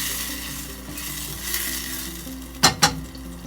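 Diced tomatoes hiss and sizzle steadily in a hot pan while being stirred, then two sharp clacks of a utensil against the pan near the end, close and unaccompanied by speech.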